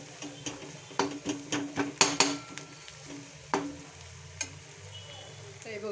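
Whole spices frying in oil in a pan over a very low gas flame for a Malvani prawn masala, with a soft steady sizzle broken by several sharp stirring and scraping clicks, close and alone.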